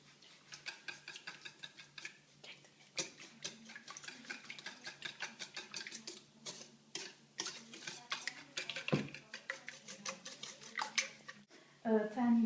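Batter being mixed in a bowl, with a rapid, uneven run of scraping and clicking strokes, close and fairly faint, with a person speaking at points.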